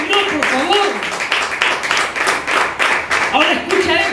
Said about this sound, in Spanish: Aplaudir al Señor, por favor.